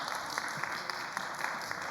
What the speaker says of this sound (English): So have a round of applause for Dr. Lukas Stink.